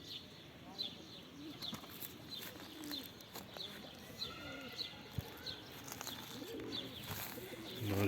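Pigeons coo and flutter nearby, with soft repeated calls against a busy background as people talk.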